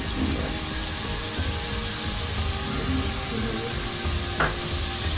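Whole spices and masala for mutton korma frying in oil, a steady close crackling sizzle with faint stirring scrapes running throughout.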